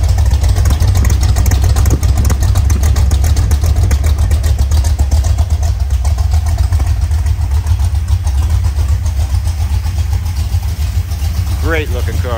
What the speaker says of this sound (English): Let's give a listen to that symphony of sound coming out of the tailpipes